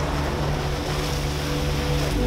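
An ocean wave rushes up a beach over a photographer's feet, a loud, close, broad roaring wash of surf and wind with no voices.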